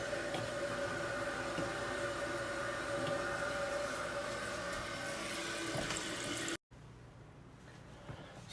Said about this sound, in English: You'll hear the water coming in through your fill valve tower and into the back of the tank.